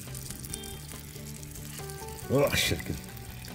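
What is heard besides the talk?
oil heating and frying in a pan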